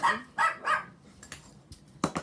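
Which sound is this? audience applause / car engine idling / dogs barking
dogs barking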